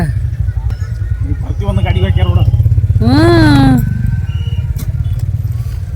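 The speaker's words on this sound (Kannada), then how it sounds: "ನೋಡ್ರಿ ಎಲ್ಲೆಲ್ಲೂ ಬೈಕ್, ಎಲ್ಲಿ ನೋಡಿದರೂ ಬೈಕ್." A busy roadside at a crowded food festival in Belagavi where motorbike engines rumble steadily, one bike revving louder and passing close midway, with people talking nearby.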